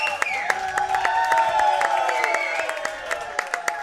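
Crowd at the Australian 8 Ball Championship final cheers and applauds steadily, with whoops and sharp claps over a dense roar, while an announcer's voice rises through the noise.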